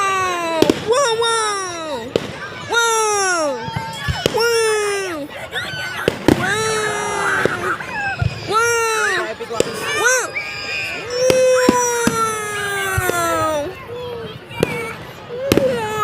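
Repeated New Year's Eve fireworks at close range, with whistling rockets rising and sharp crackling bursts in quick succession, under excited spectators and someone talking.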